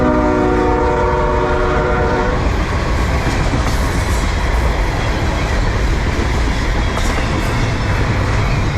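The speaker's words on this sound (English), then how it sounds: "Here comes the train." A train passes through Moncks Corner in the South Carolina Low Country, its horn sounding a loud chord for about two seconds before the heavy, continuous rumble and clatter of the cars takes over, close and loud.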